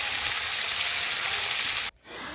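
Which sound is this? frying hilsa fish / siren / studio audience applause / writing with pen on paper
frying hilsa fish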